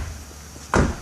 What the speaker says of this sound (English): Close the door to see